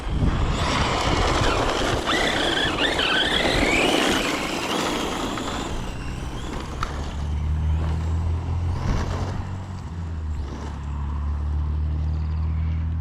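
Vehicle wheels spin and skid on slippery ground, opening as a loud, rushing hiss that gives way after a few seconds to a steady low engine rumble.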